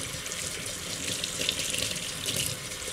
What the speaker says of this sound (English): Just giving them a little rinse